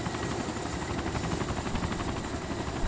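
A helicopter in the video game DayZ, its rotor chopping in a steady rapid thump with a broad engine roar, continuous and fairly close throughout.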